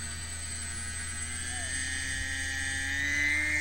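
Electric motor of a Polaris foam ceiling-tile model seaplane with skis in flight: a steady, thin, droning whine that holds throughout and swells slightly in pitch and loudness, heard at a moderate distance outdoors.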